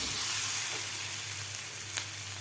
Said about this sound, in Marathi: कैरीसुद्धा आपली व्यवस्थित फ्राय झालेली आहे.